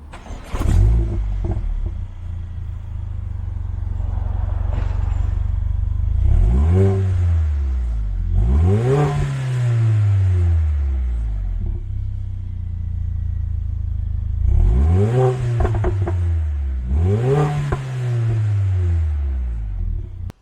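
A Mercedes A45 AMG's engine cranks to life and then settles into a steady idle. It is broken by several sharp revs that rise and fall back, loud and close, with no talking.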